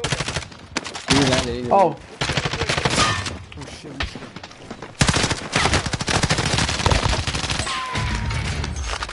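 Rapid bursts of automatic gunfire and single shots in a Call of Duty Modern Warfare match, loud and close, coming in clusters with brief gaps, while a player talks and exclaims over the action.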